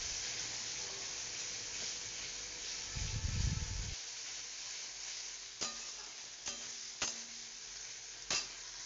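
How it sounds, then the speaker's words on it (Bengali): Masala spice paste for a red lentil dish sautéing in a pan, a steady soft sizzle with a few sharp scrapes of stirring near the end and a brief low rumble partway through, no talking. "মশলাটা ভালো করে কষিয়ে নিই"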